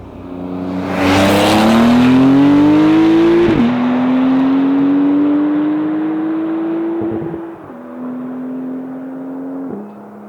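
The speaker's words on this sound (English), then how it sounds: "it totally sounds like a naturally aspirated, high revving, crispy flat six engine" A turbocharged flat-six engine in a 2020 Porsche 911 Carrera 4S revs hard, rising in pitch with each gear, then settles into a steady high drone with brief dips at shifts.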